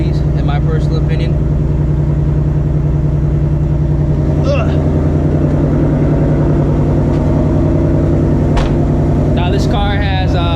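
A Ford S650 Mustang GT's Coyote V8, straight-piped with stock exhaust manifolds, caps removed and an H-pipe, holds a steady, deep idling rumble with a strong low drone, close and loud for the whole stretch.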